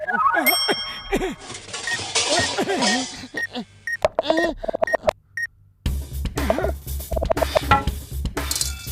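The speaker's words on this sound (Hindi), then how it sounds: "घंटी बजाना मना है। अरे क्यों मना है? मैं तो बजाऊंगा।" A cartoon bell rings repeatedly in bright ding-like strikes amid animated music and sound effects, with lively voices talking over much of it.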